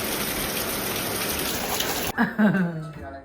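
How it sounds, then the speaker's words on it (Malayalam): Steady rain pours with a dense, hissing wash that cuts off abruptly, leaving a quieter background with a few faint tones. "ജനലിൻ്റെ ഉള്ളിൽ നിന്ന് പുറത്തേക്ക് നോക്കുമ്പം നല്ല സൂപ്പറാണ് ഈ മഴ"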